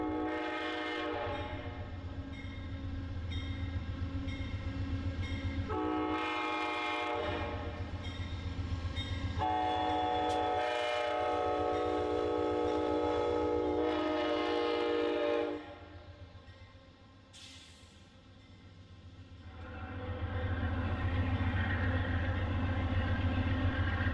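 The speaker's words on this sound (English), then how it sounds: "the engineer puts the power down on his P-42 now that he's in that 110-mile-an-hour territory" An Amtrak Wolverine passenger train, its P-42 diesel locomotive under full power in 110 mph territory, roars past close by for about twenty-four seconds, sounding several long loud horn blasts over the engine drone.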